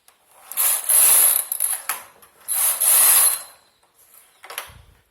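A knitting machine carriage runs across twice to knit two stitches of a lace pattern, each pass a loud, close mechanical clattering rasp, followed by a short softer click and thump.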